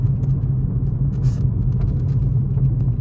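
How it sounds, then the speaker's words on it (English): Steady cabin noise from a car cruising at normal speed without hard acceleration, with a constant low engine and road rumble, tyre roar and soft wind hiss heard from inside. "Wind noise, road noise, tyre noise, engine and intake noise, just a rough idea when you're driving along like you normally are"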